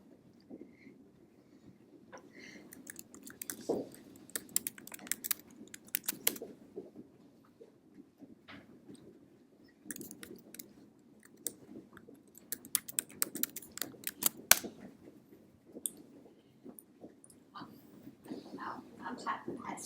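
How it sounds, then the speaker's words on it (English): A computer keyboard is typed on in irregular bursts of quick clicks, close and fairly quiet, with pauses and soft background noise between. "I'm typing the password in wrong"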